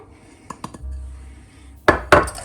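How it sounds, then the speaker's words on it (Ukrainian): Flour and sugar are stirred together in a bowl for a microwave chocolate cake, giving a few light clinks of a utensil against the dish and then two sharper knocks, close and with no talk. "для цього нам потрібно борошно вищого гатунку, змішуємо разом з цукром"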